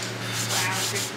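Medium-coarse sandpaper rubbed briskly by hand in a few quick, rhythmic strokes, close and moderately loud, with no talking.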